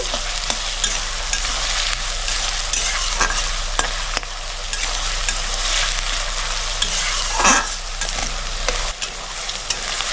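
Onions fry over raised gas heat in a pan for a Bengali chicken kosha, a loud, steady sizzle with repeated stirring scrapes and spatula taps, close up with no voices.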